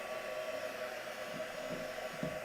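A hair dryer blows steadily and close by, drying paint on a crafting project, with a constant whooshing motor hum that stays even throughout and no speech.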